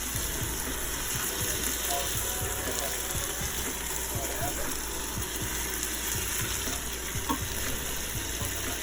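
Chicken breasts sear in a full Instant Pot, a steady broadband sizzle with scattered small pops and crackles running throughout, fairly quiet and unbroken by talk.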